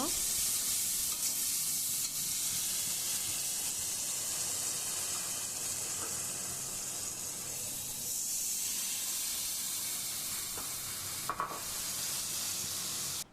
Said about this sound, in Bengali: আমি কড়াইতে ঘিটা খুব ভালো করে জাল করে নিচ্ছি বাসন্তী পোলার জন্য